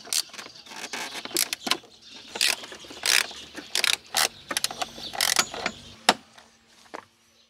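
A ratchet clicks in quick bursts, driving 7mm screws into the blower motor housing of a C4 Corvette, with short pauses and metallic taps between runs, close and moderately loud.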